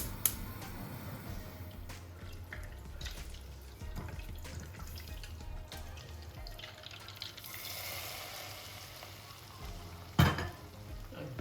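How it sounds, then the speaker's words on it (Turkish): Butter melting in a pan to finish a rice pilaf for orange duck, a soft sizzle with scattered clinks and stirring and a sharp knock near the end. "Şimdi burada tereyağını eriteceğiz."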